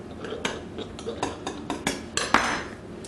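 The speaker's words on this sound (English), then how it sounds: "you want to get a little knife and just start cutting, trimming it neatly around the edges" A small knife trimming pie dough around a dish's edge for a Belizean lemon meringue pie, giving a series of light taps and clinks against the pan, irregular and close, growing sharper near the end.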